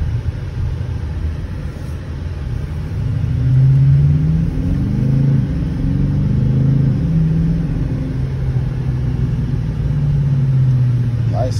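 Interior rumble of a 2020 Dodge Challenger R/T on the move, a steady low engine drone that swells slightly around mid-ride and holds, with muffled road noise and no clear talk.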